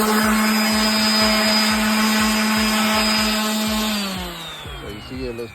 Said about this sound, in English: I'm gonna show you how I'm using my sander right here